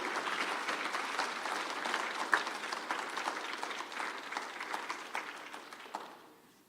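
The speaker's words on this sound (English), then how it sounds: "So let's give Al a round of applause" An award-ceremony audience claps at the 2021 MTLA awards, a dense, steady round of applause that gradually thins and fades out near the end, with no talking over it.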